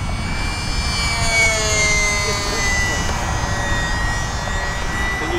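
A small electric UMX Pitts S-1S RC biplane flies overhead, its motor a sustained, loud, high whine with slowly shifting pitch over a constant rushing wind-like noise.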